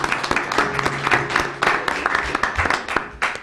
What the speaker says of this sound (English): So we should applaud them for their efforts as well on that.